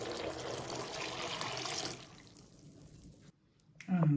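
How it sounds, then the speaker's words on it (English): Tap water pours into a bowl of pumpkin seeds and pulp at a kitchen sink, a steady splashing rush that fades out, followed by a brief clatter at the end. "And add another load of water."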